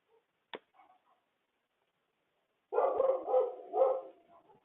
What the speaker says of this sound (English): Okay, it's just a puppy.